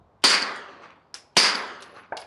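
Two sharp, close shots from a suppressed Stealth Arms Platypus 1911/2011 pistol, each a crisp crack with a fading tail, followed by a metallic clack of the action cycling.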